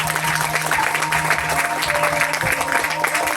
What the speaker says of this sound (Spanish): Si el aplauso es para Cristo, déselo fuerte, hermano.